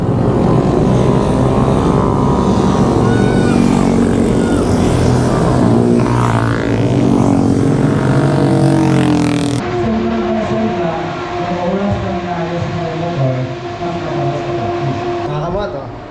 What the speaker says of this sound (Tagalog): umiikot na yung mga underbone or mga manual na motor sa racetrack